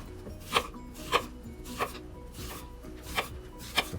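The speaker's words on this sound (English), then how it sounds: "Looks like I'm using my favorite knife to chop some onions here." Onions being chopped with a favorite knife on a cutting board for homemade pizza topping, six spaced, crisp chops at an unhurried rhythm over faint background hum.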